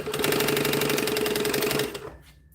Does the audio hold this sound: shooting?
no